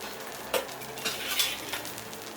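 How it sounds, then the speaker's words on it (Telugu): Onion dosa batter spread on a hot pan gives a soft, continuous sizzle broken by a few light scraping and clinking touches, with no talk. "పెన్నం వేడైంది కదండి. ఇప్పుడు పలసగా దోశ వేసుకోవాలి."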